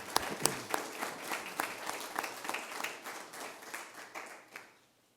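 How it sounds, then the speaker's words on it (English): A room of people at a council meeting claps for workers being honoured, a dense, steady patter of many hands from start to finish that thins and fades out at the end. "Give me a hand clap."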